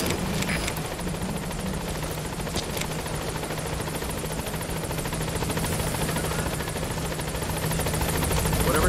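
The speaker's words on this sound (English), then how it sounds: "This is Pequot. Arriving shortly at LZ." A helicopter approaches a landing zone in Metal Gear Solid V: The Phantom Pain, its steady rotor thrum and turbine whine droning continuously at moderate volume and building slightly toward the end.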